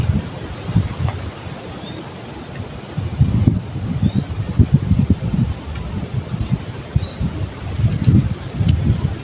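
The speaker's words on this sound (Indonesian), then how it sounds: "Ini anginnya sangat kencang sekali kawan." Strong wind buffets the microphone outdoors at a fishing spot while casting for snakehead, giving steady low rumbling gusts throughout with no clear talk.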